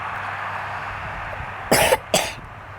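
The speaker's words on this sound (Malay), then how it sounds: "Sorry lah aku batuk." Two short, harsh coughs close to the mic, the second following quickly after the first, over a steady low background hum with no talking.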